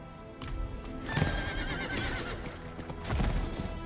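A horse whinnies and its hooves clip-clop in a steady rhythm in the Diablo 4 video game, set against a constant layer of game music and ambience.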